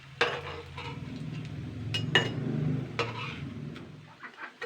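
Potato and flour snacks frying in refined oil while being turned over, soft sizzling under clinks and scrapes of a utensil against the pan, with a few sharp knocks.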